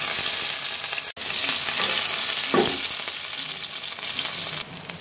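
A large onion fries in about half a cup of mustard oil in a kadai for duck curry: a constant close sizzle broken by scraping stir strokes and one brief gap, with no voices.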